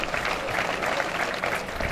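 Crowd applauding the four finalists after a pétanque final, a steady, moderate wash of clapping from a gathered audience, continuous across the short moment without a voice over it.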